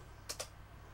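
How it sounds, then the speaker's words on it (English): Two quick keystrokes on a computer keyboard during a Vim session, sharp clicks about a tenth of a second apart over a low steady hum, near and fairly quiet. "and I start typing"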